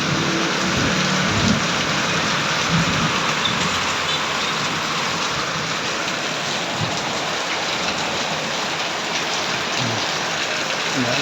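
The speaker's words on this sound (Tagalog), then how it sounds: "Ang lakas ng ulan at kidlat." Steady heavy rain with lightning and thunder, a thick continuous wash of rainfall on surfaces nearby, with faint low rumbles mixed in and no talking.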